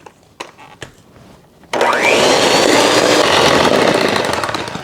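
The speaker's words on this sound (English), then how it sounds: "I have here 6 tablespoons of softened butter that I'm going to beat" After a few light knocks, an electric mixer starts abruptly, whirring loudly and steadily as it beats six tablespoons of softened butter for ginger cookie dough, its pitch shifting slightly as the butter breaks up.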